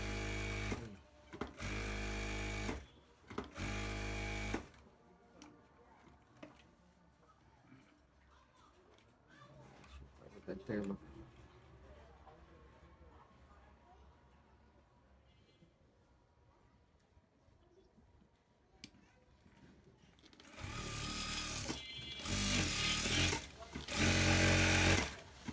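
Sewing machine stitching elastic onto a salwar, loud rapid bursts of needle clatter at the start and end, with quieter handling and someone talking in between.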